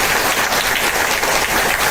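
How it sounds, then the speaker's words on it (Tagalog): A church congregation at a 16th anniversary service gives loud, sustained applause, with thick continuous clapping close by and filling the space. "Isa pang malakas na palakpak sa ating Diyos."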